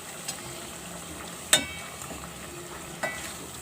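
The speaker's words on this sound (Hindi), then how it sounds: "4 से 5 मिनट मज़ीद भूनेंगे ताकि मसाले वगैरह अच्छे से पक जाएँ।" Keema mince frying with spices and turmeric in a pan, a soft steady sizzle with a few sharp clinks of a spoon against the pot, heard close and alone.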